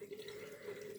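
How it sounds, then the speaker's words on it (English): Warm running water from a tap splashes steadily as hands rub and wash a face at a sink, a close, continuous rush with no talking. "I kind of rub my hands together and I just wash my face"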